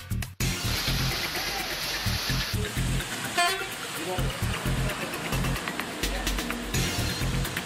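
Rain falls steadily in a town in Kanchipuram district, a broad hiss with passing vehicles and a short horn toot, while people talk nearby.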